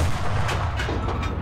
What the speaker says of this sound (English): I heard a gunfire as well.